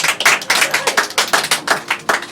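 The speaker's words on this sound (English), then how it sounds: "Give him a round of applause." An audience at a mind-reading comedy show claps for a volunteer coming up on stage: loud, close applause with distinct rhythmic hand-clap bursts throughout, no talking.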